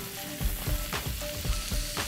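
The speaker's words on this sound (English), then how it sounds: "To the mushroom pan, we're gonna add some butter and about the same thing to the onion pan." Butter and olive oil sizzle in pans of mushrooms and onions, a steady close frying hiss with soft rhythmic scrapes as the contents are stirred, no talk.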